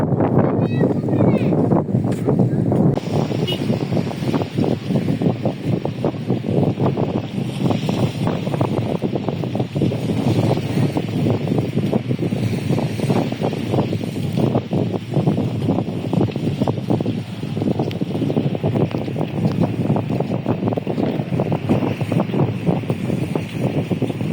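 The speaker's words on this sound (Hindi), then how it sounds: "ठंडी हवा चल रही है और समंदर के किनारे में है" Cool wind blows steadily at the seaside along Busaiteen Corniche in Bahrain, a loud continuous rush of wind buffeting the microphone across the whole stretch, with faint surf beneath.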